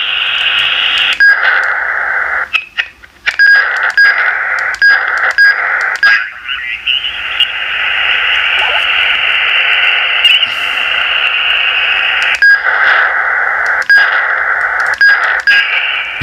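An iRadio UV88 handheld transceiver tuned to HF around 7060 hisses with steady static, broken by short repeated beeps and tone blips and a stretch of garbled signal, loud and near.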